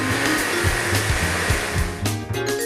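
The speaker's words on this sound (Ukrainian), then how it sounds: "Оставшуюся малину мы посыпаем сахаром и добавляем 20 грамм апельсинового сиропа и перетираем в блендере" A blender purées raspberries with sugar and orange syrup. It gives a loud, steady motor whir that pulses rhythmically and then shifts pitch briefly near the end, with no talking.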